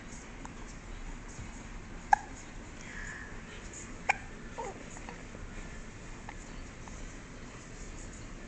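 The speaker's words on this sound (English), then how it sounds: "You got hiccups again." A baby hiccups softly, two sharp isolated catches spaced about two seconds apart over a low steady background hiss, with no talk.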